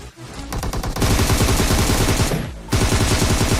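Automatic gunfire from the PUBG Mobile video game comes in two loud, close bursts of rapid shots, split by a short gap near the middle, with no talking.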